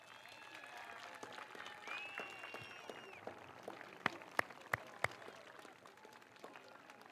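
Eighth graders at a promotion ceremony clapping for their families, a faint, distant patter of hands with a few sharp, close claps standing out midway and quiet voices in the background.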